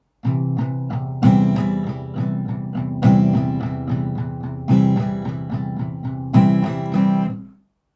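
Guitar strummed in six downstrokes with the fourth hit harder, the pattern for a song from Natpe Thunai; bright, ringing chord strums repeat in a steady rhythm with periodic louder accents, close and clear with no talking.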